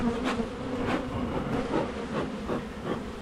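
Agitated honeybees buzz steadily around an opened long Langstroth hive during an inspection, a dense, close drone with individual bees zipping past the microphone every half second or so, and no talking.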